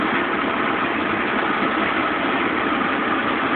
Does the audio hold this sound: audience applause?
no